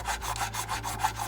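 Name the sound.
sanding a model dropship pod section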